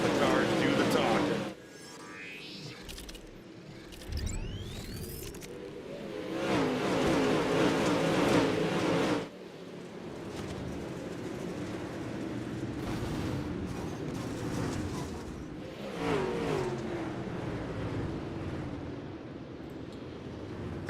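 Pro late model race car engines roar and whine in a sim racing game at Lincoln Speedway, swelling and fading as cars pass, loud throughout with a few brief dips, and commentary voices can be heard now and then.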